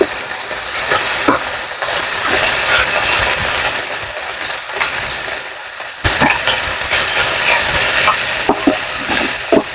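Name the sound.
pork frying and spattering in a pan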